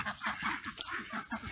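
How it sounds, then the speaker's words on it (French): Ducks in a permaculture vegetable garden quack over and over in quick, uneven bursts, close by and fairly loud, with no voices over them. "Il y a une manifestation de canards"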